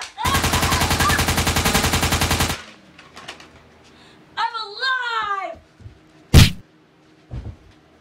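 Cartoon gunfire in an animated short: a rapid, loud burst of automatic shots for about two seconds, followed by voices and squeaky speech, then a single sharp shot and a fainter thump.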